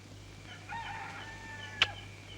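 A rooster crows once in a long drawn-out call at moderate distance, over a steady low hum, followed by a brief sharp click.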